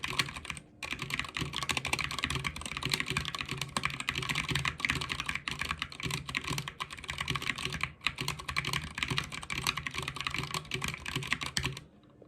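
Rapid, continuous typing on a mechanical keyboard fitted with PBT keycaps bearing Japanese sub-legends, close-up clacky keystrokes with a few brief pauses.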